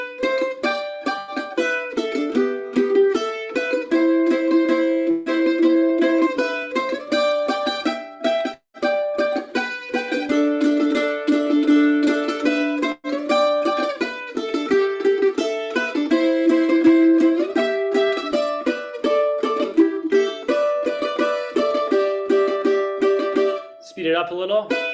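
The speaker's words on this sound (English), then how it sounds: "So if I were to take this shuffle and add double stops," Bluegrass shuffle played with double stops, steady and loud, with two-note harmonies moving in a bouncing rhythm and a brief note change near the end.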